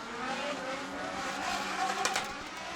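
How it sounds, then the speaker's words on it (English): Drift cars at a 2018 IDC Pro-Am battle lift off the throttle and then surge back onto full power out of a tight hairpin. The engine drone is loud and sustained, with rising revs and brief tyre squeal near the end. "let off the power, slow the cars down, and then get straight back into it after that very tight hairpin section of the circuit"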